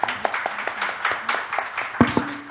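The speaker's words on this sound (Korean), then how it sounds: "박수 한번." A conference audience at an AI and cloud industry session claps for a few seconds, the claps loose and scattered with a few sharper hand strikes, a voice faintly underneath.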